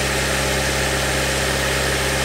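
Toyota Vitz petrol engine idling steadily after a drive belt refit, a constant close hum with no talking.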